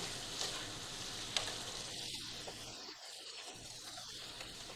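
Food browning in a plant-based meat substitute pan, giving a steady low sizzle and soft frying hiss throughout, with a few faint scrapes and clicks and no talk.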